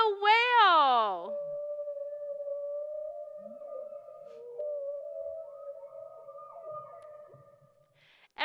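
A whale calls with a sweeping, wavering rise-and-fall cry, then holds a long steady moaning tone that fades slowly, faint and distant-sounding.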